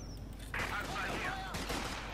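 Grenadier rifle and machine-gun fire in Company of Heroes 2 breaks out in a short rattling burst of shots amid battle noise, with game sounds layered over it.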